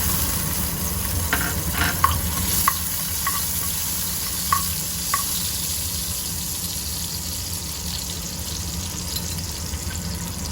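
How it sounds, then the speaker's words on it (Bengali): Chopped garlic frying in hot oil while drumstick leaf bhaji is prepared: a steady, close sizzle continues throughout, with a few light clinks of stirring near the start. "এর মধ্যে আমি কিছু একটু তেল দিয়ে দেব এই তেলের মধ্যে আমি কিছুটা রসুন কুচি দিচ্ছি"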